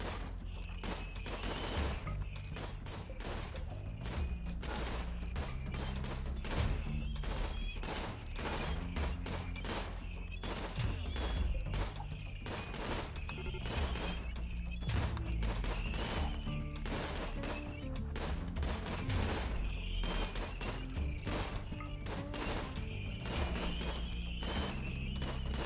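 Rapid, continuous turret gunfire in the colony-building game RimWorld, a dense rattle of repeated shots that keeps going throughout, loud and steady with no talk over it.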